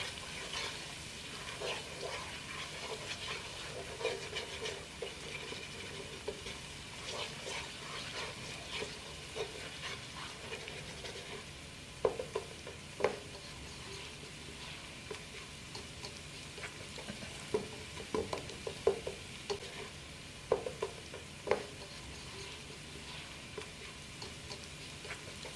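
Amla curry with salt and spices fries in a pan, producing a soft, continuous sizzle. Scattered clicks and scrapes of stirring grow more frequent toward the end.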